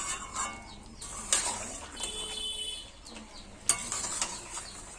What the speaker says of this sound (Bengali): আলুগুলো দেওয়ার পরে ভালো করে একটু আলুগুলোকে কষিয়ে নেব।